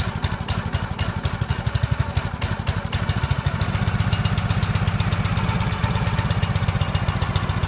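A Red Gum 30T hydraulic log splitter's small engine idles steadily and close by, a throbbing mechanical putter that firms up and grows slightly louder partway through, with no talking.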